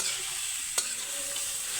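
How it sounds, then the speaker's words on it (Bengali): Radish and soya chunks frying in a pan, a soft steady sizzle under a single light spoon tap against the pan, no voices. "তো এইভাবে কিছুক্ষণ পর পর নাড়িয়ে নিতে হবে যাতে নিচে না লেগে যায়"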